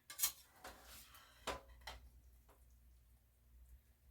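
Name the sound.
ravioli being scooped out of a dish with a utensil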